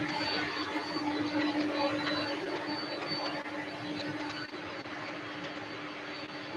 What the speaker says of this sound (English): Lots and lots of airplanes getting ready to go.